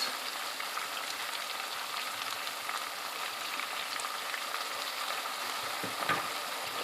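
Chicken sizzling and frying in ghee in an uncovered pan while being stirred for Chicken Nizami, a steady dense crackle that holds evenly throughout at moderate loudness with no talking.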